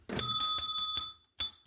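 A bell rings in quick, loud, close strikes, a rapid run of bright metallic dings, then a brief pause before two more rings.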